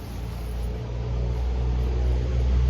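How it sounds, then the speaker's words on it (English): A heavy vehicle rumbles past nearby, a deep low roar that swells steadily louder over a few seconds with no one speaking. "sorry, loud truck"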